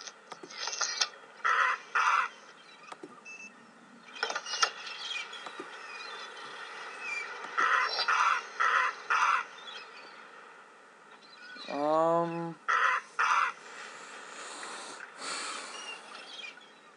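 Crow caws from a video game, delivered in short repeated bursts of two or three calls across the stretch over steady game ambience, with a brief descending sweep partway through.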